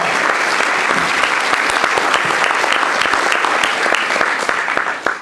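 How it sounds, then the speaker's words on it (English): A large hall audience at a university general assembly claps for the strategic planning team, dense sustained applause at a strong, even level that tapers off only at the very end. "Give them a round of applause."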